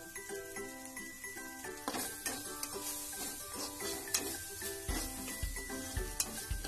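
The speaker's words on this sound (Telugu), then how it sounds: "రెండు స్పూన్లు కారం వేసుకుని బాగా కలుపుకోవాలి." A spoon scrapes and clinks in a pan as chili powder is stirred into potato samosa filling, soft irregular stirring with a faint sizzle and a few dull knocks near the end.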